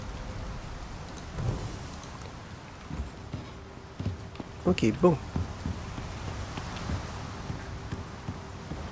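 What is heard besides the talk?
rain falling in the video game Icarus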